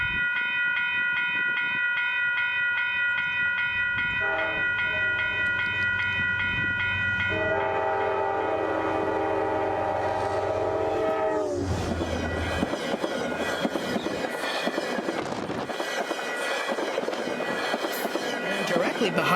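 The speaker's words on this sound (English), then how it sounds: "Coming out of nowhere and nearly catching us off guard was Metro North 8815, which was headed north with 225 leading." Metro North train 8815, northbound with locomotive 225 leading, sounds a long, loud multi-tone horn several times as it approaches, then roars past close by with a rushing rumble and clatter of wheels.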